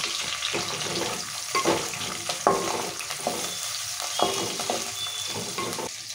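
Mint leaves hiss and crackle as they hit hot tempering oil in a pan, a loud, continuous sizzle broken by stirring scrapes at a steady pace.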